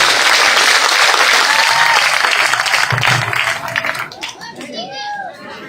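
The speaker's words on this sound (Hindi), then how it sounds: "एक बार जोरदार तालियों के साथ इनका हौसला बढ़ाएं।" Loud, dense applause from a crowd at a village political rally, sustained for several seconds then thinning out into scattered claps and children's voices.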